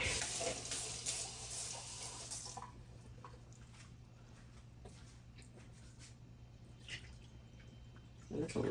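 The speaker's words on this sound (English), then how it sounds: "I just put like a tad of water" A tap runs steadily with water splashing into a cooking pot for a couple of seconds, then a quieter trickle and a few small drips and clinks, close up.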